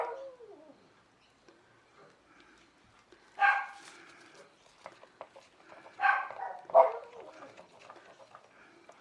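Dogs barking outside through an open window, a few distant, faint bursts around the middle and later, with quiet stretches between.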